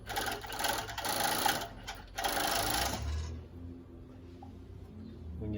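A Jack W4 cover stitch sewing machine sewing Lycra runs in a loud, close, fast mechanical whir for about three seconds with a brief break, then stops, leaving a quiet hum and faint rustling.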